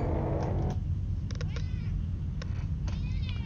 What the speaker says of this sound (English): With my cat screaming at me.